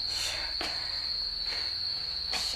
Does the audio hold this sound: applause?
no